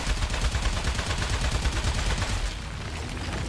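Rapid, continuous gunfire from the Portal-universe game Aperture Desk Job, a dense automatic burst rattling loudly and steadily before easing slightly near the end, with no talk over it.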